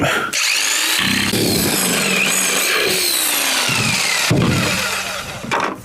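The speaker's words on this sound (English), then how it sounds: "I'm gonna cut this bucket." A jigsaw cuts through a 5 gallon plastic bucket, its motor buzzing steadily and loudly up close for several seconds, the blade rasping and whining as it chews through the plastic.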